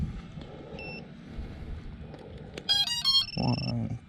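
An iFlight DC10 drone's buzzer gives a short series of electronic beeps among quiet handling noises, with a faint voice present near the end.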